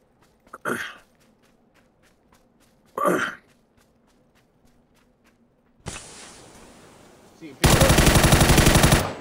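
Gunfire from the battle royale game PUBG: two short isolated bursts early on, then a dense sustained volley and a louder, continuous stretch of automatic fire at the end, with no talk over it.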